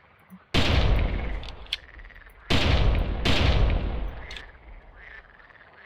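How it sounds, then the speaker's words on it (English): Rifle shots ring out while hunting in the jungle in the game Carnivores: three loud cracks with long rolling echo tails, the last two close together, and small ambient noises between them. "Okay, I think we got at least one shot off"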